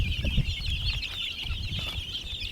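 A gamefowl rooster of sweater and gray bloodlines clucks in a rapid run of short, close calls over a steady high insect-like hum of the farmyard, with no talk.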